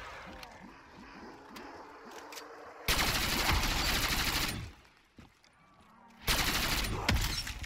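Gunfire in Black Ops 3 Custom Zombies on PC rattles in long bursts of rapid automatic shots, loud and dense, separated by a quieter stretch with scattered single shots.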